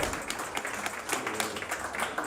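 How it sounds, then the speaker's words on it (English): Audience at a fundraiser dinner clapping for artist Julia Rivera, with scattered light applause from a modest crowd that forms a steady patter and has no voices over it. "So cheers for a little clap for Julia Rivera."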